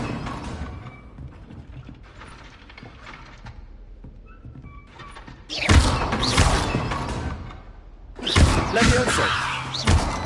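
Incendio fire spell cast in the video game Hogwarts Legacy, heard as two loud broadband bursts with a whooshing, thudding impact, set against a quieter game ambience.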